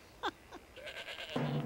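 Goats bleat in a short series of wavering calls, two brief cries followed by a longer, louder bleat, fairly close with little background noise.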